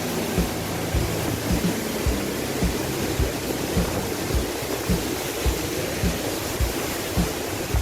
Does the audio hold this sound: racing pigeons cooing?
no